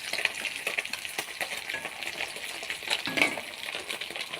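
Leftover fried fish being reheated in a pan, sizzling and crackling close up with occasional stirring scrapes, loud and continuous, without talk.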